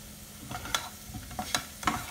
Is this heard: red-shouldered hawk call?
no